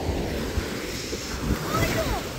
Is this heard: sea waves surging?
yes